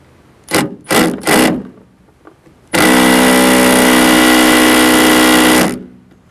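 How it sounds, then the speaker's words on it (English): An impact wrench with a T50 Torx bit works on a Nissan Titan tailgate, with three short loud hammering bursts followed by a sustained three-second rattling run, close and loud. "we're gonna see if we can make this easy with a impact wrench"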